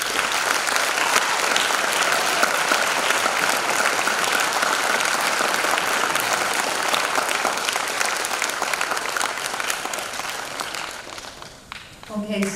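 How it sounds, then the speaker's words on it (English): Sustained, full applause from an audience in a school atrium honoring a graduating class at a promotion ceremony, steady and loud for about ten seconds before tapering off with a few scattered claps and murmuring voices. "can everybody just take a moment just to give a huge round of applause to the class of"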